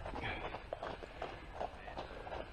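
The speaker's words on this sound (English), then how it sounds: "we've had horses go by" Horses pass on a walk through Fritham in the New Forest National Park, their hooves clip-clopping in a soft, uneven rhythm nearby, with voices talking over the outdoor background.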